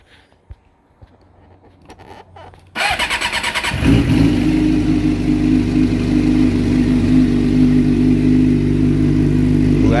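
A red 2006 Suzuki GSX-R 600 sport motorcycle engine starts: quiet fiddling gives way to a short starter crank, then the bike fires into a loud, close, raspy run that holds steady to the end.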